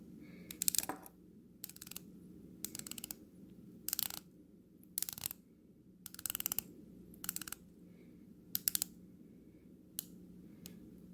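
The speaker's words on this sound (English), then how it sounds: "I'm going to be quiet so we can appreciate the bezel action here." The rotating bezel of a Monta OceanKing dive watch gives crisp, close ratcheting clicks. They come in about eight short bursts separated by quiet gaps, with no voice over them.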